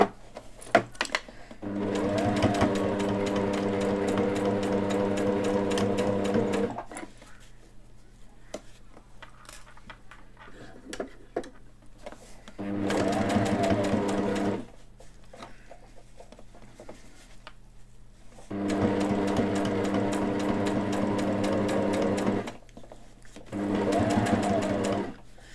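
A sewing machine stitches elastics in place, running in several long loud bursts of rapid needle chatter separated by quiet pauses with faint handling sounds.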